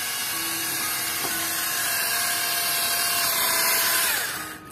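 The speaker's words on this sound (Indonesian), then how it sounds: "Kita bor, bro." A cordless power drill whirs steadily for a few seconds at close range, its pitch rising slightly under load before spinning down at the end.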